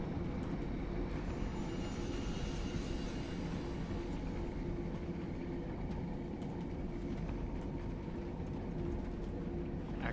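A metro train rumbles steadily past in the video game Deus Ex: Mankind Divided, a loud continuous low roar of rail noise with faint metallic screeching on top.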